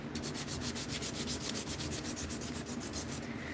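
Steady back-and-forth rasping of sandpaper on a knife blade, rhythmic strokes at an even pace, close and fairly quiet with no voices.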